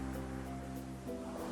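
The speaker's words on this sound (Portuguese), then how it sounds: "enquanto o mar bate ali do lado" Sea waves breaking against rocks beside a shore where an old Volkswagen Beetle is parked, a steady low wash of surf with a faint hum underneath.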